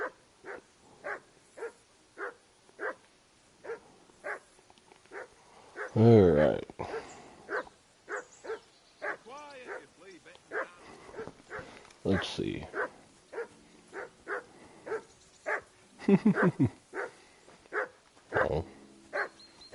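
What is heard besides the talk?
dog barking in Kingdom Come Deliverance 2 video game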